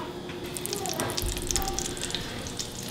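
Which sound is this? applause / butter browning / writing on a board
butter browning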